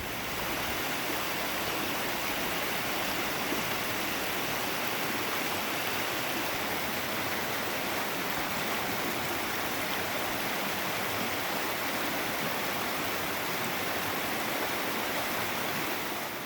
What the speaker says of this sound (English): I stopped alongside this river and just listened to the water for a while